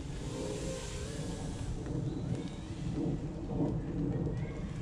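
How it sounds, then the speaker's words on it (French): Steady rain falls outdoors during a small FPV drone flight test, a dense continuous hiss with a low rumbling undertone that swells slightly toward the end. "Il recommence à pleuvoir, fait chier."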